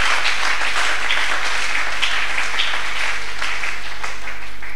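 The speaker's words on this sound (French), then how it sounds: "Acclamons le Seigneur." A church congregation applauds throughout, a dense, loud and steady wash of clapping with no break and no clear speech on top.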